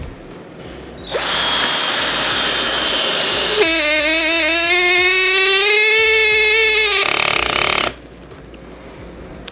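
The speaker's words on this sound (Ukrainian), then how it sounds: "Поїхали свердління" A Procraft Industrial PA18DFR cordless drill whirs steadily for several seconds, its pitch climbing and then holding as it bores, before cutting off abruptly; close and loud.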